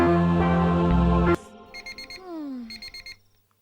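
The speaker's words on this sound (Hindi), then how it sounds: "ए जी, अलार्म बज रहा है, उठ जाइए।" An alarm clock goes off in a bedroom scene of a Hindi-dubbed crime and action film, ringing in short repeated electronic bursts after a loud burst of music cuts off.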